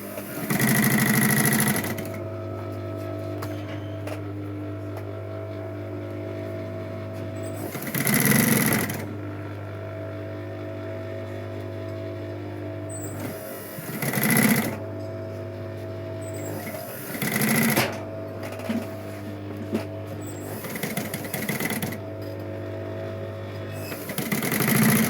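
A sewing machine stitches a tote bag in loud bursts of steady motor whir, several separate runs of a few seconds each, with quieter handling and pauses between them.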